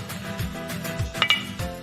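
Utensil clinking against a bowl while egg is mixed into creamed butter and sugar for a chocolate cake batter, a few light close taps and scrapes over a low background hum.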